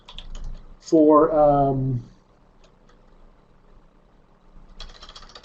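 Fingers click on a computer keyboard in quick bursts of close, light keystrokes during a library catalogue search, with a short spoken word breaking in between the typing.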